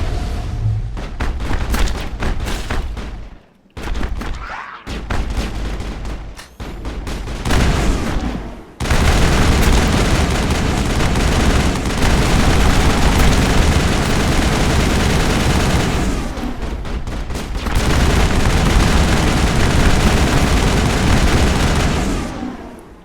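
Sustained rifle fire in the video game Mass Effect, with loud, dense automatic bursts that continue almost unbroken after a few short pauses and stops.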